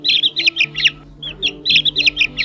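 A cartoon chick chirps in quick repeated bursts of high, bright peeps, loud and close, in two clusters with a short gap between them, over a soft low musical bed.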